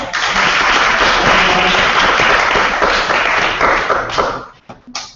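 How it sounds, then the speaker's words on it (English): Meeting attendees give a round of applause, a loud, dense burst of clapping that holds for about four seconds before thinning into a few scattered final claps and taps. "So round of applause."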